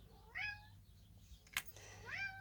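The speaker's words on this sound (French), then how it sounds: "Oh, bébé chat." A cat, a kitten, meows indoors in two drawn-out rising calls separated by a short sharp click, fairly close and clear over a low steady hum.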